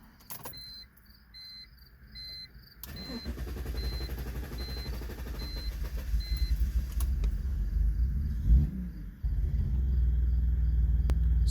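A chime beeps repeatedly, then a BMW E46 engine cranks and catches after a Seafoam treatment, settling into a loud, uneven rumble that surges and stumbles as it runs.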